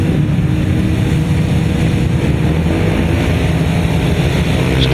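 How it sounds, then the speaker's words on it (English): Several 500cc sidecar grasstrack motorcycles rev their engines at the start line of a grasstrack race meeting, a steady, loud, rumbling engine drone that holds without a break. "Revving up then for the first heat of 500 sidecar action."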